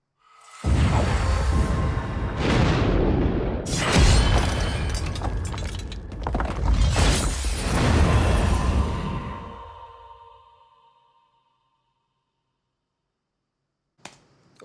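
Layered Diablo 3 Hex spear-thrust effect built from metal and rock debris: a string of loud, dense crashing bursts over about ten seconds that fade out, then silence and a brief final hit.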